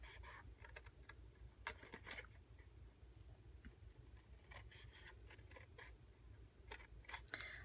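Scissors make quiet, close snips cutting the flaps of a paper chocolate box, with short irregular clusters of crisp cuts over a soft low background and no talking.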